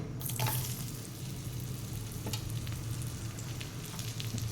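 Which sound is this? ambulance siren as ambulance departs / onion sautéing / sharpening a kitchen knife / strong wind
onion sautéing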